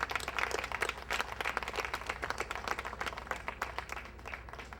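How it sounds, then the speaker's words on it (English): Applause at a church service after a reverend sings, a dense, fairly faint patter of many hands clapping steadily for about five seconds, with no talk. "Let's give her another round of applause."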